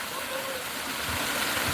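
Rising water of the Scotch Pass River in Jamaica flowing in a steady broadband rush, close and continuous for a brief moment.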